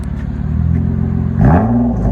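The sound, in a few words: 2014 Nissan Maxima 3.5L V6 dual exhaust, muffler delete, revving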